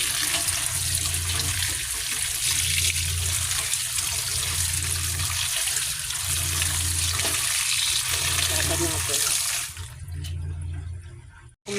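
Vegetables from the market are washed under steady running tap water that gushes continuously with a low pulsing hum beneath it, close and fairly loud, then cuts off near the end; no one speaks.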